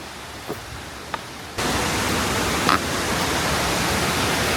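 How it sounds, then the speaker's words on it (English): Rockhouse Creek Falls at Fall Creek Falls pours into a plunge pool in a gorge: a steady broadband rush of falling water that swells louder partway through and holds, with a few faint clicks early on. "over to our right we have Rockhouse Creek Falls going down into the plunge pool, down into the gorge"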